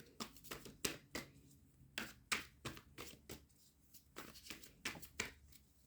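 Tarot cards are shuffled in soft, close bursts of riffling and tapping, roughly a dozen quick strokes in an uneven rhythm against a quiet room.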